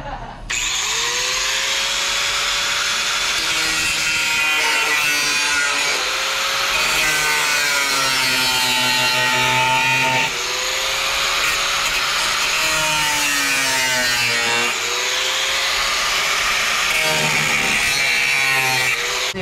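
A power sander grinds continuously and loudly while removing a false floor from a Fiat Uno, its pitch rising and dipping as pressure shifts, with occasional voices beneath.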